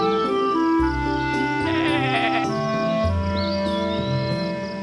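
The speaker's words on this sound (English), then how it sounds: "Watch out, Lolly, shouts Mr. Woolly the sheep." In a children's cartoon, a sheep bleats over bright, busy music, its wavering cry sitting prominently in the mix along with a playful chirping sound effect near the end.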